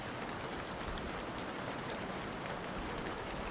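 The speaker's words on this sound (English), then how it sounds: "The sound of the rain outside, combined with the cozy atmosphere, was making him drowsy." Steady rain falls outside as a soft, even broadband hiss with a faint patter, continuous and unchanging, with no voices.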